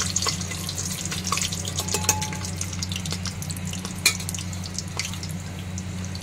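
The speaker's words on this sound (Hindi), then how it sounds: "मसाले तेल में जाने के बाद थोड़े तड़कते हैं" Spices and garam masala sizzle and crackle steadily in hot oil in a home kitchen, a continuous close fizzing with scattered sharp pops over a low steady hum.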